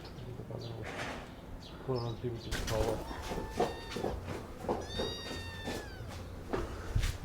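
A cat meows several times in a deserted, abandoned old quarter on the rural outskirts of Makkah, the calls rising and falling over background noise, footsteps and someone talking nearby.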